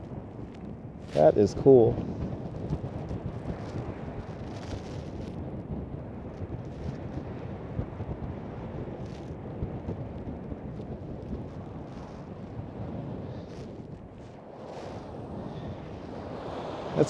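Wind gusting across Coney Island beach in winter, blowing snow and sand: a continuous rumbling roar buffeting the microphone, with a couple of louder gusts early on and someone speaking briefly over it.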